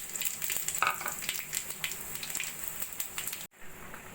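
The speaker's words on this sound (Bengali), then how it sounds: "দিয়ে দেব জিরে, তেজপাতা আর 2টো এলাচ ফোড়ন।" Cumin, bay leaves and cardamom spluttering in hot oil in a wok, a steady crackling sizzle with sharper pops, close and fairly quiet, cutting off abruptly near the end before resuming faintly.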